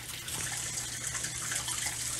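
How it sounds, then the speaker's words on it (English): Water gushes steadily from a tap into a bathtub being filled to wash clothes, a continuous broad rushing close by with no voices. "So I start filling up my tub"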